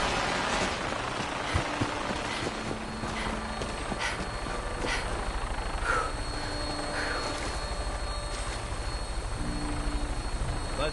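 A vertibird helicopter lifts off in the Fallout 4 game, its rotor thumping steadily under a constant engine whine and drone, with scattered clicks and faint effects throughout.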